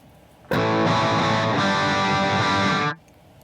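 A single electric guitar chord through a British amp model with very low input drive rings out with mild, crunchy overdrive, held steadily for a couple of seconds before cutting off cleanly.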